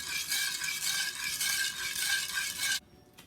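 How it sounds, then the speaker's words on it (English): Sugar and water stirred in a large pot, a steady close scraping, swishing rasp that runs for nearly three seconds, then stops abruptly. "Give this a quick stir"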